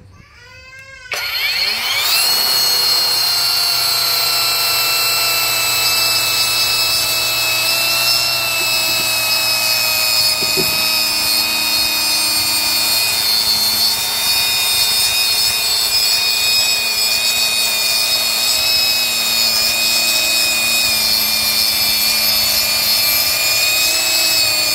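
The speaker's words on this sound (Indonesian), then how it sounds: "selanjutnya kita akan coba potong bevel juga ya pada media multiplex ini" Granite cutting machine making a bevel cut in 18 mm multiplex plywood, starting up and then holding a loud, steady whine with strong harmonic tones and grinding buzz as the blade runs through the board.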